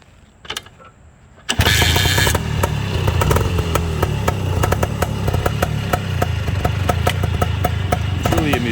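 A Bultaco 350 trials motorcycle engine kicks into life after brief mechanical clicks, then runs with a loud, close, rapid rough thumping idle that stays steady to the end.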